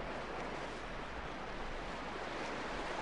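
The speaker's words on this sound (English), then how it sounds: "The water's running faster than you think." River water running at a crossing point, a steady broadband rush heard faintly and continuously without any voices.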